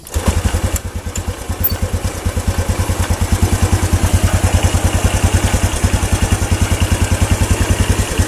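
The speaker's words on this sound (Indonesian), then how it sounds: "Terus motornya dinyalakan, kita cek kabel warna kuning." A motorcycle engine starts during a regulator-rectifier check and settles into a loud, close idle, its low, fast, even putter running steadily with no talk over it.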